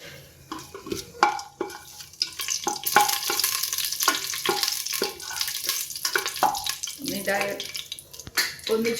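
Whole cinnamon, cloves and cardamom crackle and sizzle in hot oil in a pressure cooker, a close, busy frying hiss broken by sharp pops and scraping stirs.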